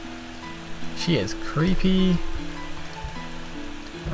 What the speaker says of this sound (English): I think the rain is making the game lag.